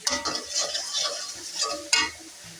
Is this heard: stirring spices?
yes